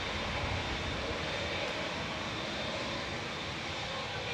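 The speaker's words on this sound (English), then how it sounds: "Oh, there's a 747 going over." Boeing 747 jet passing overhead near Manchester Airport, a faint but steady broadband engine roar that stays constant without a clear rise or fall.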